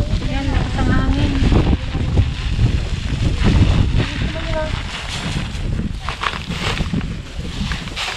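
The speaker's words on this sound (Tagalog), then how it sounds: "Yan, lakas ang hangin." Strong wind buffets the microphone with a heavy low rumble throughout, and a few faint voices sound beneath the gusts.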